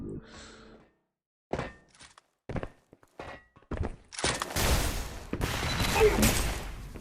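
Rocket and sniper weapon fire in a Xonotic duel on the Fuse map: a few sharp, separate blasts and thuds, then a dense burst of loud explosive noise that runs to the end.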